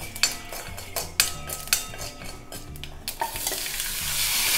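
Ingredients for tomato fenugreek rasam being stirred in a pan, a series of close metallic scrapes and clinks from a spoon over a sizzle that builds steadily louder toward the end, with no voices.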